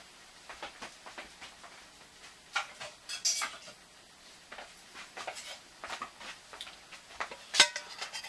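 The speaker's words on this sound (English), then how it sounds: "This is my little Primus kettle," A small Primus kettle handled outdoors beside alcohol camping stoves, with light metallic clinks and taps scattered irregularly, faint to moderate, over a quiet hiss.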